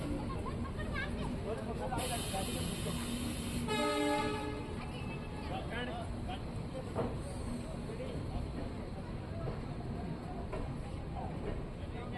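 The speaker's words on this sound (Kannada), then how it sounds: "ಫ್ರೆಂಡ್ಸ್ ನಮ್ಮ ಟ್ರೈನ್ ಈಗ ಯಲಂಕ ಜಂಕ್ಷನಿಗೆ ಬಂದಿದೆ" The Hampi Express train rumbles into Yelahanka Junction with a loud horn blast near the start, over constant rail noise and a murmur of voices.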